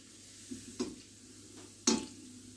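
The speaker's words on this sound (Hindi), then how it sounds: "अब हम इसमें ये गुलाब जामुन फ्राई करेंगे।" Gulab jamun fry in oil over a medium-low flame while a spoon stirs them, giving a few soft scrapes and taps against the pan, the last one sharpest, over a faint, steady background sizzle.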